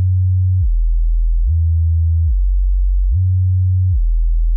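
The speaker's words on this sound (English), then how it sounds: "It's just a sine wave with a little bit of portamento." Synth bass made from a pure sine wave with glide portamento, deep sustained low notes that slide smoothly between two pitches in a repeating pattern, loud and alone.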